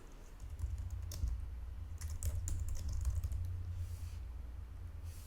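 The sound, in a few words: typing on a computer keyboard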